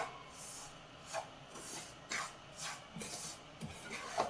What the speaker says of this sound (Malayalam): ഇത് നല്ലതുപോലെ ലോ ഫ്ലെയിമിൽ ഇളക്കി മിക്സ് ചെയ്തെടുക്കാം.